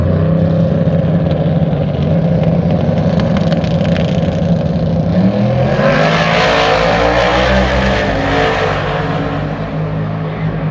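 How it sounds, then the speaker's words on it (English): A Camaro race car at LS Fest West revs and accelerates hard, a loud continuous engine roar that swells and rises in pitch through the second half, with no talk over it. "Jack Dowdy's Camaro out of Creighton, Utah, rolling on the right side"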